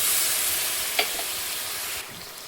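Water poured into a pan of frying spice paste for Lotta (Bombay duck) fish curry sets off a steady hot sizzle, with a brief sharper hiss about midway. The frying noise drops noticeably near the end.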